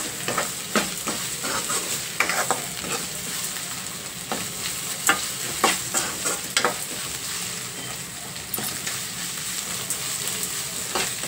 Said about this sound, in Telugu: ఇలా పచ్చివాసన పోయేంత వరకు కలుపుకుంటూ వేయించేసుకోవాలి.